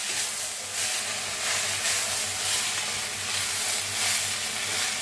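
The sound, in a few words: moth bean sprouts roasting in oil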